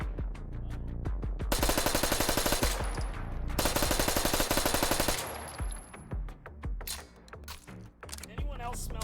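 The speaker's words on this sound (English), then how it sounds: "Yay, more shooting." Rapid bursts of automatic machine gunfire from a firearm in the VR shooting game H3VR, two long sustained strings of dense, loud shots with shorter scattered rounds and clatter after, no talking.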